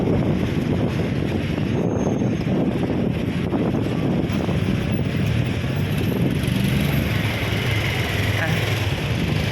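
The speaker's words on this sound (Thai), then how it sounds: "มีลม ลมเยอะ" Strong wind at a street market in South Pattaya, blowing hard and continuously across the microphone as a loud, rough, fluttering roar that masks most other sound.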